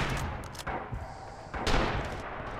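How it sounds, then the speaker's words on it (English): Artillery and gunfire in the World War II shooter Rising Storm, on the Kwajalein battlefield, with bursts of rumbling, crackling fire that rise and fall over nearly three seconds. "I'm right in the middle of the fucking artillery."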